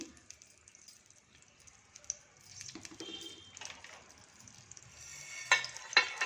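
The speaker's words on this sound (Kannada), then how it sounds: "ಇದೆಲ್ಲ ಸ್ವಲ್ಪ ಚಟಪಟ ಅಂತ ಸಿಡಿಲಿ" Mustard seeds, chana dal and cumin crackle and spit in hot oil while tempering a chutney, with scattered pops building and growing louder toward the end, close and without talk.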